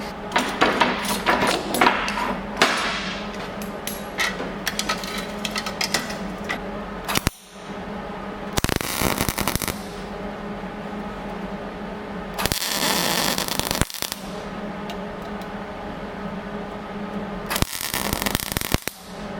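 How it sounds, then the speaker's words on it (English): MIG welder laying a medallion patch on a Case 830 tractor, loud crackling sputter in several bursts separated by short pauses, close up and with no talk. "I'm gonna weld it."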